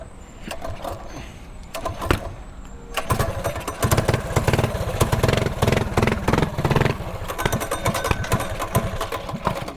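A mini bike engine with a blown clutch and backfiring runs outdoors. It starts with rough, uneven sputters, then settles after a few seconds into a louder, steady buzzing rev close by.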